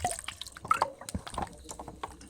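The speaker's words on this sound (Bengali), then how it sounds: "অল্প অল্প জল দিয়ে এই চালের বাটাটাকে আমি মাখবো" Water dripping and splashing in small additions onto ground rice batter for soru chakli pitha, a few close, wet drips and soft liquid sounds with light handling noise between them.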